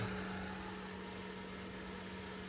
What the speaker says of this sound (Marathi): इथं फॅन चालू आहे व्हेंटिलेशनसाठी